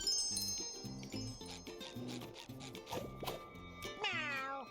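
A snail meows like a cat in the SpongeBob SquarePants: The Cosmic Shake video game, a short meow among a jingling, tinkling game soundtrack and chimes, with a rising bright chime near the end.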